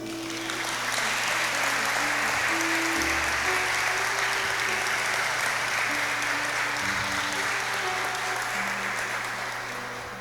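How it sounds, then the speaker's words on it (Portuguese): A church congregation claps steadily throughout, a dense, sustained wash of applause with faint music or hum underneath and no clear talk over it. "Você pode aplaudir Jesus?"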